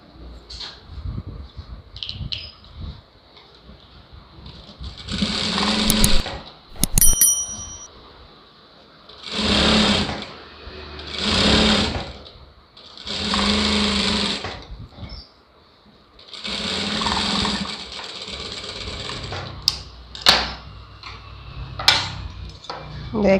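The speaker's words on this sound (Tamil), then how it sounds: "இப்போ சுற்றி இப்படி தையல் போட்டுக்கலாம்." A sewing machine stitches around a lined blouse in several short whirring runs of a second or two each, with brief pauses and light handling clicks between them, fairly close and with no talking.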